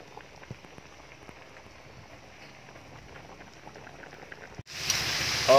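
Pork leg patatim simmering in a pot gives a steady, soft bubbling with fine crackle throughout, close by, ending in a sudden louder, brighter rush of noise.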